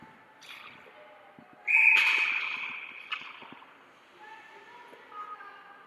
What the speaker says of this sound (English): Whistle blown again.